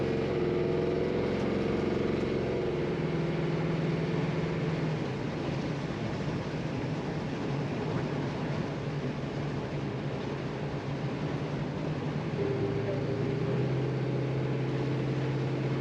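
A 1939 Ford street rod with a TPI 5.7L V8 engine and 700R4 transmission drives at rising speed. The engine and road noise form a steady broadband drone that runs throughout, with a shifting low tone near the end.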